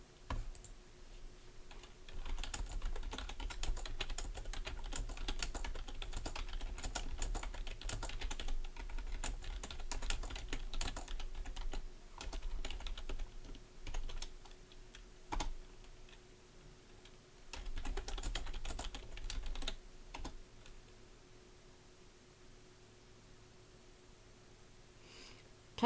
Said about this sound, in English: Typing that would be me.